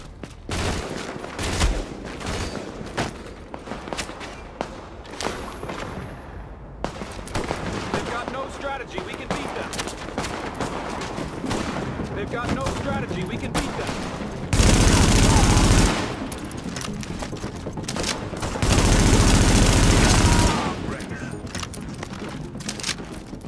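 Bursts of automatic gunfire in the video game Tom Clancy's The Division, dense rattling volleys with two louder sustained stretches, mixed with combat sounds and game dialogue voices throughout.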